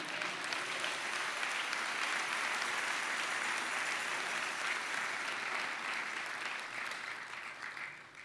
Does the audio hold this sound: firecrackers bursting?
no